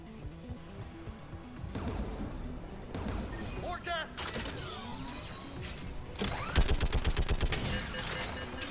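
Turret gunfire in Mass Effect 3 Legendary Edition: scattered shots build to a rapid, loud burst of automatic fire near the end, over mechanical clanks and battle noise, with voices mixed in.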